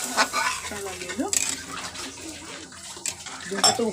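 Water gets poured into a pan of cooking egg curry and stirred, with a splashing pour, scraping and light clinks of utensil against the vessel in short bursts, close by.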